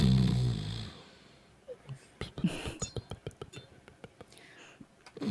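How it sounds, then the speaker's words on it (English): A person snores softly through a series of short raspy breaths, with a voice heard at the start and faint murmuring in the background. "It is charming when people start to snore, though."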